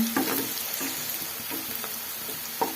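Onions frying in ghee until golden, a steady close sizzle with occasional light stirring clinks, no talking.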